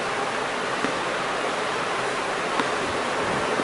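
Water for a potato curry with gram flour boils in a covered pot, giving a steady close hiss and rumble, even and unbroken, with no talking.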